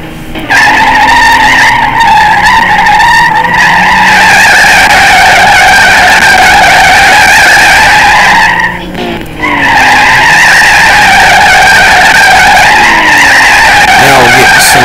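A Bugatti Veyron and a Lamborghini Gallardo doing a burnout drift: loud, sustained tire squeal with a steady, sharp screech over roaring engines that nearly cuts out briefly before resuming at full volume.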